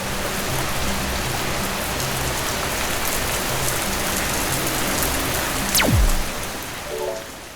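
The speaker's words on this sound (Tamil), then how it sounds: "நம்ம பேசிகிட்டு இருக்கும் போதே மழை வந்ததுனால இங்கே இருந்த ஒரு குகைக்குள்ளே வந்து உட்காந்துருக்கோம்." Steady rain pours outside a rock cave in the Jawadhu Hills, heard from within as a dense, even hiss of drops on stone with no voices, briefly crossed by a faint rising tone near the end.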